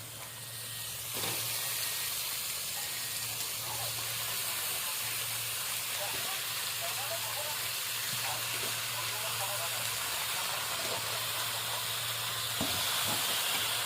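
Desi chicken meat sizzles in a hot pan with a steady, broadband hiss that holds evenly for the whole stretch, accompanied by a low constant hum.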